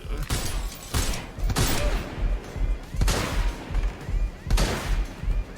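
Bursts of gunfire from the video game Watch Dogs: Legion crack out in several loud volleys with short gaps between, filling the scene from start to end.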